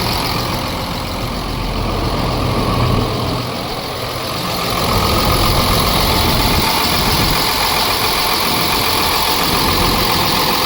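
An old Cummins diesel engine that had sat unused for years runs steadily at idle, a loud, continuous rumble with a deep low end that swells slightly partway through and carries no talk.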